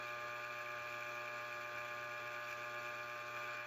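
A Lyman Case Trim Xpress trimming a brass cartridge case, a steady high-pitched electric motor whine with a constant cutting buzz, close and unbroken throughout.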